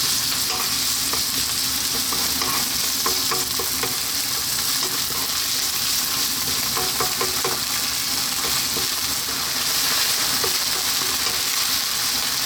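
A 50-50 garlic and ginger paste fries hard on high heat for a chicken curry, giving a loud, steady, dense sizzle with occasional scraping stirs and no voices.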